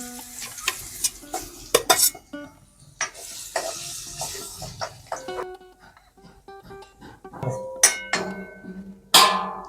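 Garlic fries in hot oil in a kadhai already holding spluttered mustard seeds and cumin, a close sizzle mixed with frequent metallic clinks and scrapes of a stirring spoon against the pan.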